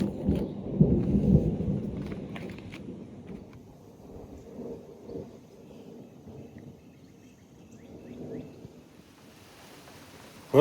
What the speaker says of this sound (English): it's only been a few minutes and it's starting to rain